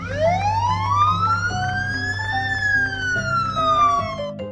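A loud fire truck siren wails, its pitch sweeping slowly up and then back down, over a rhythmic low engine-like pulse; no one speaks.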